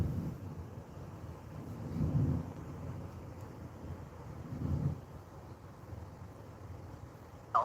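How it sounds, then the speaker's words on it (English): A bad thunderstorm gives two low swells of rumbling thunder over constant wind buffeting and broadband noise, with a brief sharp crackle at the very end. "We got a bad thunderstorm."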